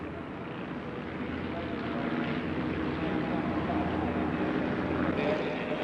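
A Bristol Tourer biplane, a civil version of the World War I Bristol Fighter, drones steadily overhead at an airshow while streaming smoke in formation, its engine a continuous broad roar that swells slightly partway through.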